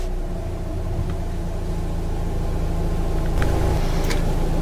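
A 2016 Volvo XC90 Momentum D5 PowerPulse diesel idles as a steady, loud, low rumble inside the cabin, with faint clicks near the end and no speech.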